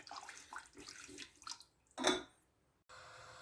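Milk poured into a pot for a quick milk pudding, a soft running splash that swells into a fuller gush before trailing off, with quiet kitchen sounds around it.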